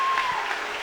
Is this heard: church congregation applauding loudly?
yes